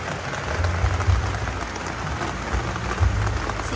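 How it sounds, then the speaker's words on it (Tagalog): Heavy rain pours steadily onto potted succulents outdoors, a dense continuous hiss with occasional heavier gusts of drops, close and loud. "Lakas ng ulan. Kanina biglang buhos."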